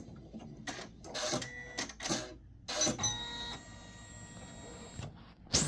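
A Janome MC500e embroidery-only machine runs up close, with bursts of mechanical whirring and clicking broken by brief pauses and a steady motor hum.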